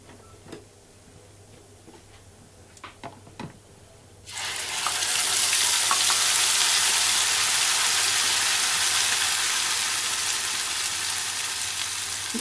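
Tomato and onion paste frying over a high flame in a pan with whole cumin for an egg curry, starting suddenly as a loud, steady sizzle that holds for several seconds after a few faint clinks.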